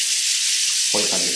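Shower water running at full pressure in a Hilton Nagoya hotel bathroom, a loud, steady, close hiss throughout, with someone talking over it near the end.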